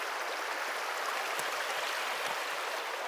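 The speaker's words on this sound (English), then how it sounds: "And I'll give you a nice shot of the river." A river flowing steadily outdoors, a constant broadband rush of moving water, even and unbroken, with no voices.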